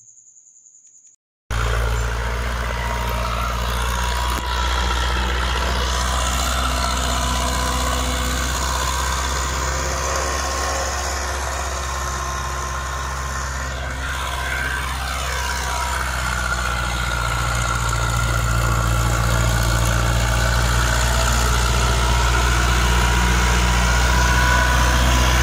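A 1978 Ford 3600 tractor engine runs steadily at idle, a loud continuous low diesel rumble that holds for the whole stretch after a short quiet start, with no voices over it.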